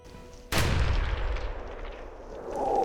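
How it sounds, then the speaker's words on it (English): A rifle shot during a driven wild boar hunt in Croatian woodland, one sudden loud crack whose boom rolls away over a couple of seconds, faint outdoor noise around it and no voices. "I had to take that shot."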